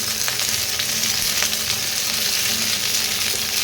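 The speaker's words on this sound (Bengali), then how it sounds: "প্রথমে শিমগুলোকে একটু ভাজা ভাজা করে নিতে হবে।" Steady, close oil sizzle of green beans frying in a pan, a dense crackling hiss with occasional sharper pops throughout.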